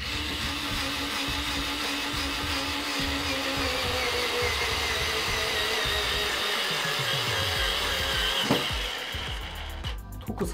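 A small electric screwdriver for computer assembly whirs steadily and loudly up close, its motor drone filling the clip before a short clicking stop near the end.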